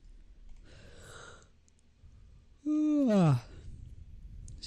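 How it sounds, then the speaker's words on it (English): A man lets out a single drawn-out yawn that rises into a loud, descending voiced groan, preceded by a softer breathy exhale, in a quiet indoor room. "Sorry for yawning."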